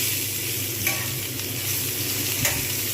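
Pointed gourd sizzles steadily as it fries in a pan for a stuffed vegetarian dish, with a few soft stirring clinks and scrapes over the constant close crackle.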